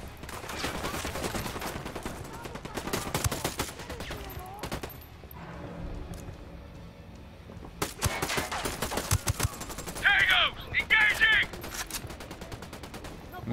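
Gunfire rattles through a firefight in the Ghost Recon Wildlands video game: sharp shots and bursts come in clusters, with sniper fire among them. A quieter lull falls mid-way before dense shooting resumes, and brief voices and game sounds sit in the mix.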